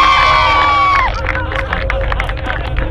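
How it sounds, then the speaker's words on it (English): A crowd cheers and claps in a loud, dense burst, following a brief high whistle-like tone at the start. "I think Matt deserves a round of applause"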